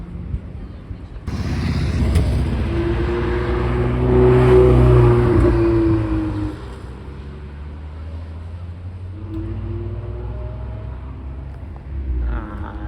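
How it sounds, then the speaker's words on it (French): A Ferrari 360 Spider driving past on a street in Deauville, its engine rising to a loud roar as it nears and fading as it goes away, with a voice talking over it. "Ok, Ferrari 360 Spider. Ça j'adore."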